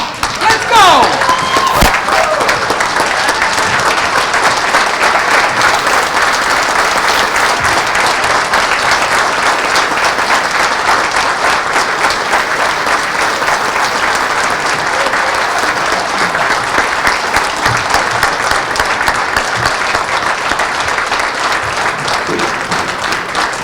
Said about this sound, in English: give a huge round of applause for all the winners